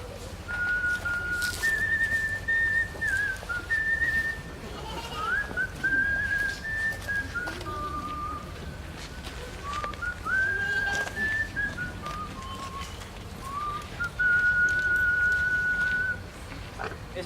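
At an outdoor street-theatre performance at a harvest festival, wavering high whistle tones sound in several separate phrases over about seventeen seconds. They stay clear and steady above a constant low background murmur.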